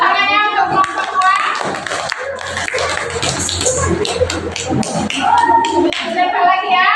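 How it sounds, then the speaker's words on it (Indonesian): Third-grade pupils clap together for group two in a classroom, uneven hand claps mixed with children's chatter and voices throughout, fairly close and loud. "Ya, tepuk tangannya untuk kelompok dua."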